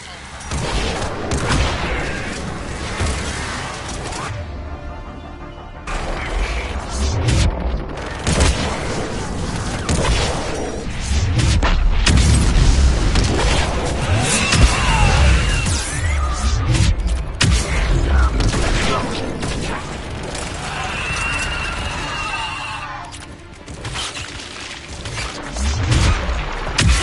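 Missile strikes in Mass Effect 3 land in a steady barrage of heavy booms and explosions. The blasts mix with gunfire and mechanical battle noise, loud and continuous throughout.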